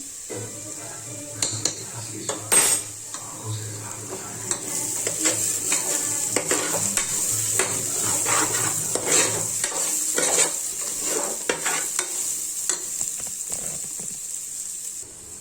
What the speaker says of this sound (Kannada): ಅದನ್ನ ಸ್ವಲ್ಪ ಬ್ರೌನ್ ಕಲರ್ ಬರೋವರೆಗೂ ಹುರ್ಕೊಳ್ಳೋಣ